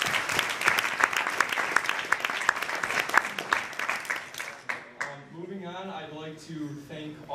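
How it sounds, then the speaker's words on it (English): A round of applause at a high school soccer team banquet, busy clapping for about five seconds that fades out, followed by a voice speaking alone in a quieter room. "So let's give a quick round of applause to the players."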